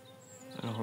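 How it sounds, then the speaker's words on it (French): Honeybee colony buzzing aggressively during the first hive inspection of the year, a faint, brief, close insect hum that swells toward the end. "j'ai rarement été autant attaqué par une colonie"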